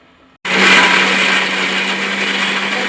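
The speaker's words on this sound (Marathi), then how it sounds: "आता मिक्सरमध्ये खोबरं बारीक करून घेते" A mixer grinder switches on abruptly and whirs loudly and steadily as it grinds coconut, a close, continuous motor drone with no one talking.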